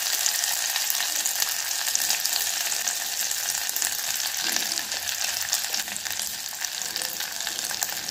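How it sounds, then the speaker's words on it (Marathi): Ginger-garlic paste and red chili powder fry in hot oil in a home kitchen, giving a steady, loud, unbroken sizzle that holds evenly for several seconds with no talking. "याला आता आपण 1 ते 2 सेकंद चांगलं तेलात परतून घेऊया"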